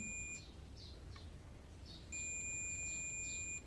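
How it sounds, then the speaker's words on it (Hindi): A multimeter continuity test on a circuit board component gives a clear, high electronic beep. One short tone is followed by a pause, then a longer sustained beep closes the stretch. "इसको चेक करेंगे, इसमें भी बीप आएगी"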